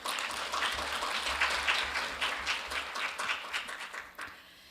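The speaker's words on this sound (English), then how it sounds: "Please give him another big round of applause." An audience at a conference forum applauds a presenting professor, soft steady clapping heard from some distance that gradually thins and fades toward the end.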